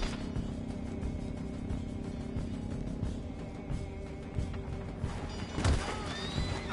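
Horses whinny and neigh amid a busy Red Dead Redemption 2 chase scene, with hoofbeats clip-clopping beneath a dense, steady rumble of game action; a louder, sharper neigh stands out near the end.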